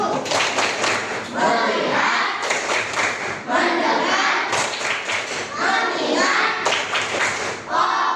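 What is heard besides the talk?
tepuk fokus rhythmic clapping chant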